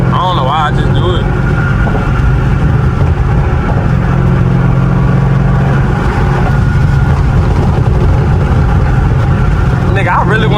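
A car engine holding a steady 4,000 RPM while cruising at high speed, a constant loud drone with road roar filling the cabin, a brief voice-like warble near the start.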